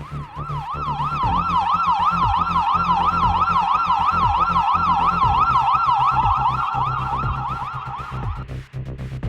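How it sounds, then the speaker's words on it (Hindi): An ambulance siren wails loud and close in a fast, steady up-and-down cycle, then cuts off near the end with faint traffic rumble beneath. "भैया, ये एम्बुलेंस कहाँ जा रही है?"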